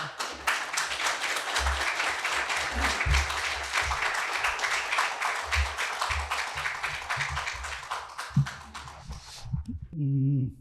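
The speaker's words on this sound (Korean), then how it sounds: "저희 최승복 교수님을 큰 박수와 함께 모셔보도록 하겠습니다" Sustained, dense applause from a lecture audience welcoming an engineering professor, with low thumps mixed in, holding steady for about nine seconds before cutting off to near silence and a short tone.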